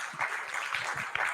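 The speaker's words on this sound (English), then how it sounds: "I think they deserve a better clap than that one" Brief spell of audience applause after a presentation at a formal evaluation meeting in Uganda, a soft, even patter of many hands, moderately distant and fairly quiet.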